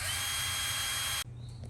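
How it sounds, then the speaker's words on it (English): A power drill whines loudly and steadily while drilling and tapping a metal water pump part, then cuts off abruptly, leaving a quieter low rumble. "Well, we got it drilled and tapped."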